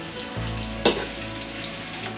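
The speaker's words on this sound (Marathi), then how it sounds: "आता तेलामध्ये कांदा सोडतोय" Onion dropped into hot oil for a spicy Agri-style chicken dish, a steady close sizzle with a brief sharp burst of spitting as the pieces hit the pan.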